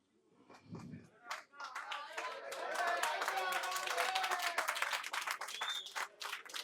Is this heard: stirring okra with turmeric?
no